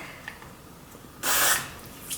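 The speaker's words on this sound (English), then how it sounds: "I'm going to take this Got To Be Glued Blasting Freeze Spray, and I'm just going to take a little bit on my hand" Got To Be Glued Blasting Freeze Spray bursts from the can onto a hand in one short, loud hiss lasting about a third of a second, preceded by quiet handling noises.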